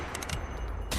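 A quick rattle of rapid gunfire bursts, three close together then another after a pause, loud and harsh over a noisy background.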